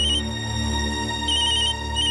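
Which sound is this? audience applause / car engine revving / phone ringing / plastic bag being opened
phone ringing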